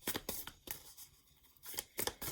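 Tarot cards being shuffled by hand give a few quick riffling and flicking bursts, close up, with short pauses between them and no voices.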